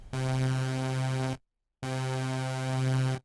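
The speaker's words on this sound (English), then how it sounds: "When this is enabled, the chorus effect has two built-in LFOs and two delay lines" Sylenth1 software synth pad run through its chorus effect in dual mode, two LFOs and two delay lines thickening the tone: two sustained, loud notes of about 1.3 seconds each with a short silent gap between, no voices.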